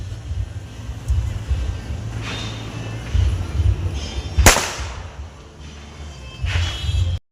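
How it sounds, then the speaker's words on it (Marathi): Rope bomb firecrackers bursting at a Diwali dawn celebration, with one sharp, loud crack standing out near the middle and fainter pops and rumbles around it, set over steady outdoor background noise. "तिकडे त्या साईडला जे पोर आहे ते हातामध्ये रस्सी बॉम्ब फोडतात"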